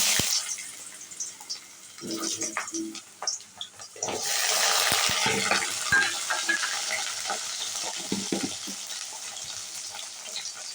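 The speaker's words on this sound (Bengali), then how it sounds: "তেল গরম হয়ে গেছে আলুটা ভেজে নিচ্ছি" After a few clinks and rustles, a strong steady sizzle of potatoes frying in hot oil takes over and continues close by.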